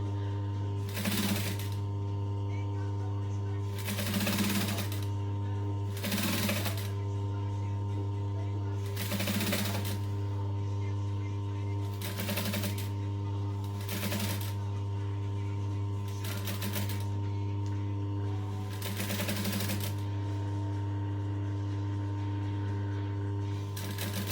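A sewing machine stitches a backpack strap in repeated short bursts of rapid mechanical chatter separated by pauses, over a steady low hum, with a person talking now and then.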